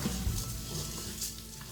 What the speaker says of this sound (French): Donc je suis partie pour remuer.